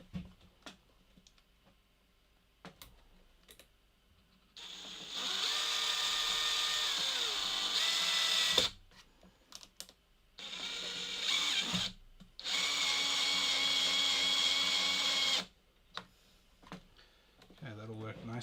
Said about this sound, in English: Let's use these little stainless screws again, and the old DeWalt.